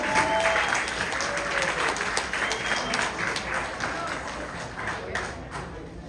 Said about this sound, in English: They all deserve a round of applause for bringing us together tonight